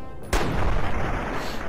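A single sharp, loud gunshot in the video game Fallout 3 bursts out after a brief hush, followed by a long booming rumble that slowly fades.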